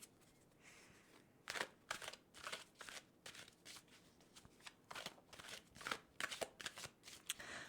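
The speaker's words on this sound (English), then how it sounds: "go ahead and shuffle this deck several times" A deck of tarot cards is shuffled by hand in repeated quick riffles and flicks, close and fairly quiet, the bursts coming in an irregular rhythm over several seconds.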